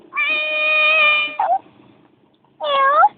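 A voice imitates a cat with two drawn-out meows, the first long and wavering, the second shorter after a pause.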